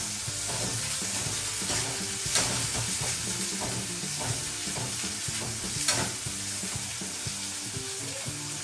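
Onion and garlic fry with cumin seeds in hot oil, a loud, continuous crackling sizzle close up, steady for the whole stretch with no talk over it.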